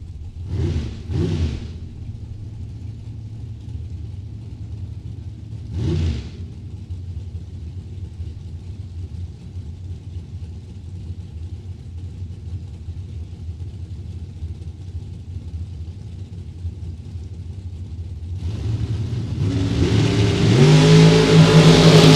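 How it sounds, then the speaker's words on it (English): Dragster engines at a drag strip during a Super Pro event: a few short, sharp revs early, a long idling rumble, then a loud roaring launch building toward the end. "Mike Zednick out of Petoskey in a dragster right-hand lane"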